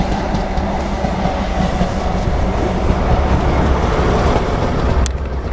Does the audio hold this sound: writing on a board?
no